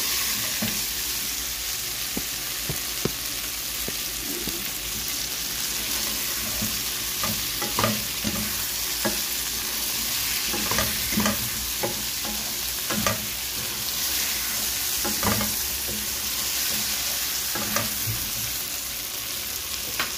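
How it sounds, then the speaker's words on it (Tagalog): Carrots, plantains and potatoes sizzling and toasting in a pan for a Filipino pork soup, a steady dense frying hiss with scattered clinks and scrapes of stirring throughout, close and continuous without talk. "Mas masarap kasi pag medyo matoast-toast natin ng kaunti ang ating carrots, saging, patatas"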